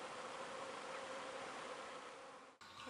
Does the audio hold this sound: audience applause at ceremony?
no